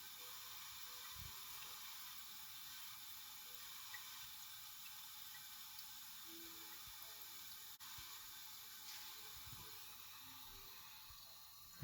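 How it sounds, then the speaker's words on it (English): A toilet cistern with a fill valve needing adjustment keeps filling and overfilling, giving a faint, steady hiss of running water that continues unbroken throughout, with no talk. "water is continuously filling and overfilling actually"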